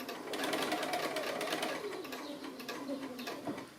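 A sewing machine stitches the mitred corner of a quilt-as-you-go quilt, a close, steady rapid whirring and needle chatter that slows slightly near the end, with no voice over it.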